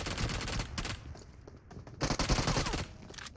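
Rapid bursts of P90 gunfire in PUBG Mobile, with several loud, dense volleys of shots separated by short gaps and echoing reports, with no talk over them.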